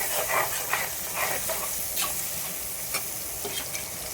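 A pan sauté with turmeric powder sizzles steadily and loudly, with repeated scraping strokes of a spatula stirring close by throughout.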